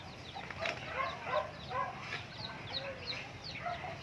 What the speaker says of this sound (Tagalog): Ito naman yung tandang na pogi, si Masculados.